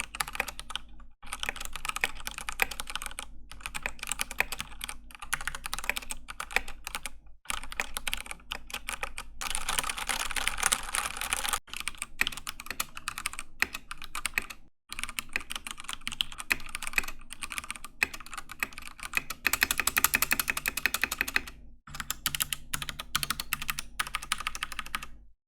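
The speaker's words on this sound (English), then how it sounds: "we're going to do a few typing tests, one on the mouse mat, one off" Continuous typing on an AKKO 3087 V2 tenkeyless mechanical keyboard, dense rapid keystrokes in bursts with brief pauses between runs, close and clear with no talking.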